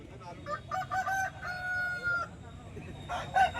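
A rooster crows loudly and tonally at a busy hen market in Bhadradri Kothagudem, with clucking fowl, a second crow near the end and a crowd murmuring underneath.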